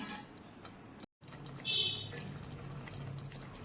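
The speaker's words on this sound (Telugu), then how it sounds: "కొంచెం నీళ్ళు పోసుకున్నాం." Water pours briefly into a pan of fish curry with coconut milk, a soft splashing burst followed by a quieter trickle against low kitchen background noise.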